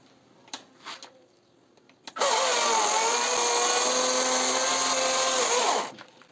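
A power tool cuts through the thin wooden wall of a stingless bee hive, a sharp whining buzz that starts suddenly after a few light knocks, holds steady for about three and a half seconds, then stops.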